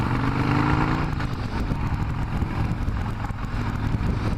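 Carbureted Harley-Davidson motorcycle on a ride, its engine droning steadily under wind rush, with a brief rising rev near the start before settling into a rumbling cruise.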